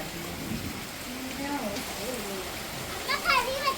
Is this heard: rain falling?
yes